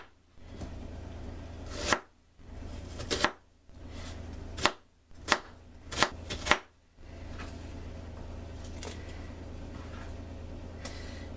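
A knife chops through a spoiling spring onion on a board, about eight separate sharp cuts in an uneven rhythm over a low steady room hum, close and fairly loud with no talk.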